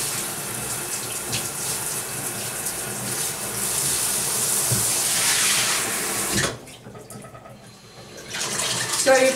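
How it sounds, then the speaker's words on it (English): Tap water runs steadily while a Labrador's fur is being rinsed, a loud hissing gush that stops near the end and is followed by quieter sounds. "So you first rinse with the water, get the fur wet."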